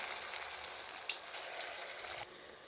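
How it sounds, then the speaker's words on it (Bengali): Lentil fritters made from pea dal (bora) frying in hot oil, a steady broadband sizzle running throughout with a few small pops, fairly close and even, with no talking. "আমি বড়াগুলোকে একে একে ছাড়ছি। করে ভালো করে লাল করে ভেজে নেব।"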